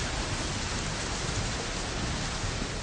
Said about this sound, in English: it started to rain, and it rained